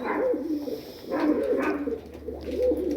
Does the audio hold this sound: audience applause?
no